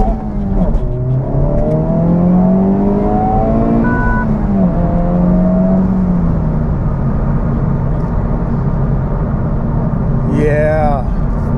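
A Honda Civic Type R FL5 with its K20C1 engine accelerates hard from inside the cabin, the loud engine note rising in pitch through the gears with a brief drop between shifts, steady and close.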